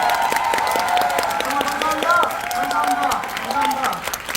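A theatre audience at a musical's final performance curtain call breaks into steady, dense applause and scattered cheers, with a voice speaking briefly over it.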